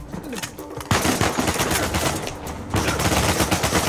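AK rifle gunfire in the Uncharted 4 video game: loud, dense bursts of rapid automatic fire with brief breaks between volleys, close and continuous, with no talking.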